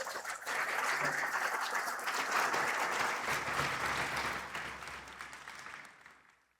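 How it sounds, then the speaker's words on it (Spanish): Church congregation at a Spanish-language sermon giving loud sustained applause, a dense crowd of clapping that holds steady for several seconds and then gradually fades out. "Denle un fuerte aplauso al Señor."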